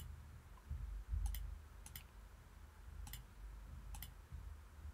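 A computer mouse is double-clicked during 3D modelling work, giving close, crisp paired clicks that repeat four times at roughly even intervals over a faint background hum.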